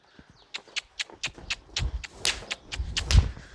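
Hooves of a young horse loping around a round yard, with a quick, rhythmic series of close thuds in three-beat groups that grows slightly heavier, with no talk.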